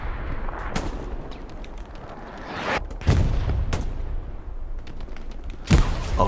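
Gunfire in the video game Hell Let Loose, a machine gun set up during a night match on Foy: a handful of loud, sharp shots and booms spaced a second or more apart over a steady rumbling battle din.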